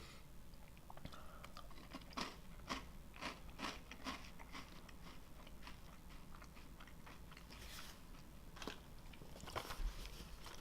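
Someone crunches on Japanese caramel corn candy with a butter-toffee flavor, making steady, close, crisp chewing crackles throughout at low volume.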